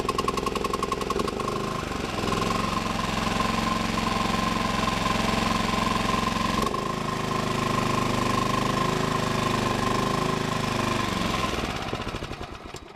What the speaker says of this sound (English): one thing I do love about the Toro, more of the Kawasaki engine, is how easily it starts